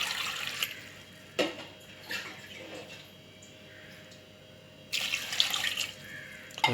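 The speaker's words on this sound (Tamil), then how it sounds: "இதில் இந்த கருணைக்கிழங்கு மூழ்கிற அளவுக்கு கொஞ்சம் தண்ணி ஊற்றிப்போம்" Water is poured into a pressure cooker holding pieces of elephant yam, a close splashing stream in a couple of bursts separated by quieter running water.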